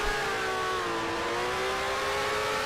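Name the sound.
1965 F1 car engine revving high in GPL racing video game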